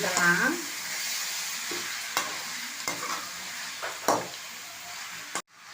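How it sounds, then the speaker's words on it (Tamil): Chicken pieces are stirred into capsicum in a sizzling pan, with repeated spatula scrapes and knocks over a steady frying hiss before the sound cuts off abruptly, and no one speaks. "சிக்கனை போட்டுட்டு நல்லா கலந்து"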